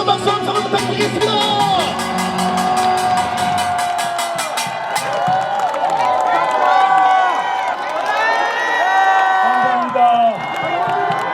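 Crowd at a presidential campaign rally in Gongju, South Korea, clapping and cheering loudly with whoops and shouts, rhythmic chanting at the start, and an amplified voice speaking over the noise.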